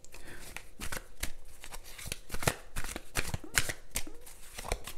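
Tarot cards shuffled and laid out on a table, a steady run of quick riffling flicks and soft slaps close by, with a faint murmur of talk in the background.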